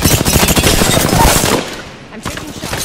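Rapid automatic gunfire from a video game weapon, a loud sustained burst of closely spaced shots that briefly thins out, then resumes with scattered shots.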